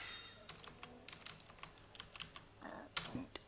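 Keys tapped on a computer keyboard while entering the tree command in a Windows command line, a quiet run of light clicks ending in a firmer keystroke like Enter; no talking.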